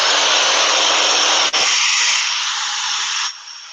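A hair blow dryer blasts a loud, steady airy hiss while drying hair through a brush, briefly dipping, then softening and cutting to a quieter hum near the end.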